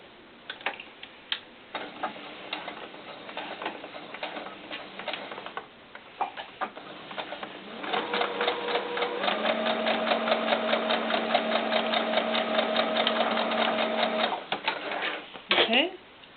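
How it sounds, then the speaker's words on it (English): Sewing machine stitching straight across a quarter-inch seam on a small doll beret, a steady mechanical whirring run of several seconds after scattered clicks and handling noise, fairly close. "I'm just going to sew right across that."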